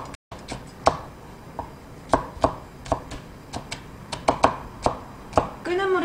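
A knife chops green onion and other vegetables on a board for shrimp fried rice, with about a dozen sharp, irregular knocks close by and a brief voice near the end.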